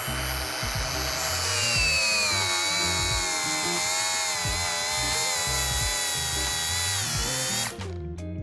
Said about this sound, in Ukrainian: Вмикаємо болгарочку, друга швидкі.